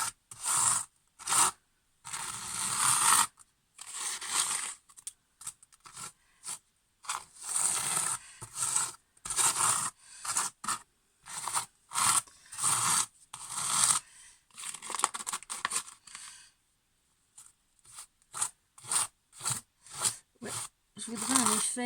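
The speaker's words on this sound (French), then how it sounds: "alors je vais appliquer à la spatule grossièrement" Spatula roughly spreading sand paste across a canvas, giving repeated close scraping and rasping strokes in uneven bursts separated by short pauses.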